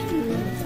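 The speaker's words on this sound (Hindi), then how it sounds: "और ये कबूतर जो भी हैं आपके सामने हैं, आपको नज़र आ रहे होंगे।" Low, steady pigeon cooing on a rooftop fills the short moment, a soft throaty warble with no talking.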